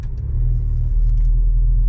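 Low engine rumble from a Volkswagen Scirocco R automatic as it pulls away, a steady deep drone building slightly in loudness, close and alone without talk.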